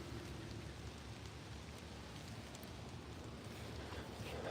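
Rain falling steadily on a garden food forest, a soft, even hiss of drops spread across the whole stretch, quiet and unbroken, with no voices.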